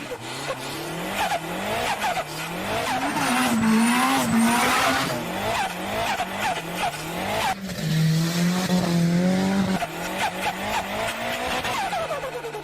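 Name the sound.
Nissan S13 with SR20 engine driving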